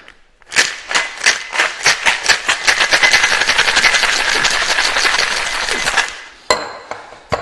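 Ice rattles hard inside a cocktail tin, shaken in a fast, steady rhythm for about five seconds, then stops and a few sharp metallic clinks follow.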